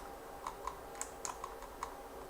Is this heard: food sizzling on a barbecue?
no